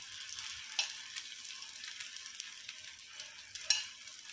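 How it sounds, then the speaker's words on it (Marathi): Bottle gourd dhapate flatbread frying on a pan as oil is added into its holes: a soft, continuous close sizzle with occasional sharper crackles and spits, no talk. "आता जे होल जे दिसत आहेत हे धपाट्यांचे, त्यामध्ये असं थोडं थोडं तेल आपण सोडून घ्यायचं आहे."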